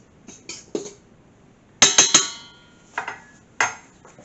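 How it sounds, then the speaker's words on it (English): A fork stirs a mixture in a bowl for Guyanese hot cross buns. Sharp metallic clinks and scrapes come in small irregular clusters, close by and clear, with quiet gaps between them. "I'll use a fork. To just give that a stir."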